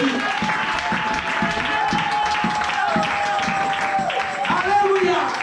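A church congregation claps rhythmically in praise while voices sing and call out, with steady hand claps under the lively worship sound.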